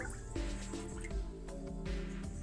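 Sugar being stirred into elderflower syrup, with close wet sloshing and dripping liquid sounds, a spoon scraping in repeated short strokes.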